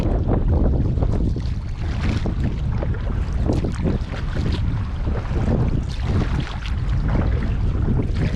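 Steady light wind buffeting the microphone on a large northern lake while paddling a canoe, a constant low rumbling roar with faint water lapping, loud and unbroken for the whole stretch, with no voices.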